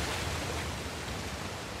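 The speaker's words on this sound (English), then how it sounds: "Another waterfall." Steady broadband rush of a waterfall in Uncharted: The Lost Legacy's Western Ghats, a constant wash of falling water with no break, filling the scene at moderate level and heard alone.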